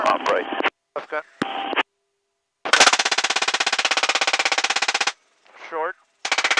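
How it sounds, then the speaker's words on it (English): Door-mounted machine gun fires from a UH-1Y Huey helicopter during an aerial gun shoot, a loud sustained rapid burst of about two seconds between short radio voice transmissions and a brief trailing sound. "Left gun, open fire."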